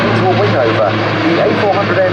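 Airbus A400M military transport flying slowly past at low speed during a solo display at the RIAT air show, a steady loud propeller-engine drone running throughout with a commentator talking over it.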